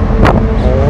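An Eicher truck being overtaken on a road between Pollachi and Tiruppur, a loud whooshing rush of passing vehicle and wind over engine rumble, with a voice talking underneath.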